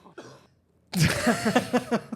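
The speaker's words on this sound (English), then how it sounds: "That was my cough." A single short cough near the start, followed by a burst of louder raspy throat sounds, like a harsh cough or throat clearing, close and alone.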